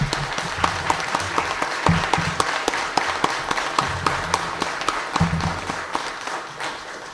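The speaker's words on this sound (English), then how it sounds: "Let's give a round of applause, please." An audience at a Republican primary candidate forum claps for several seconds, individual hand claps distinct and fairly close, the applause thinning toward the end.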